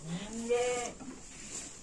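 Goats and young kids bleating on a farm: one wavering bleat rises and falls near the start, followed by fainter calls and background noise, no speech.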